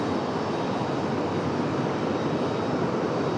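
American Airlines A321 jet on approach to land on runway 23 at RDU, a steady broad roar of engine noise without distinct changes, heard alone at moderate distance.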